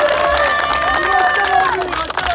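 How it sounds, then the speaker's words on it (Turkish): A crowd at an outdoor basketball event in İzmir claps and cheers loudly and steadily, with shouting voices rising over the dense applause. "kendinizi bir alkışlayın."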